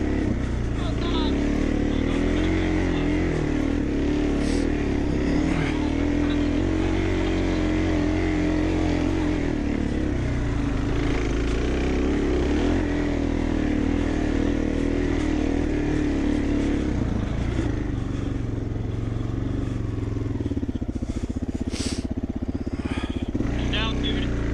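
A dirt bike engine revs hard and steadily while climbing a hill on a muddy trail, with a sustained drone and surges of throttle. Excited voices shout and talk over it throughout.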